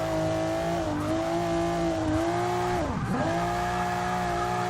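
Volvo S60 Polestar engine revving hard in third gear as the rear slides out, a loud steady engine roar with tonal rises and falls and a sharp dip and recovery in pitch, close and continuous, no voices.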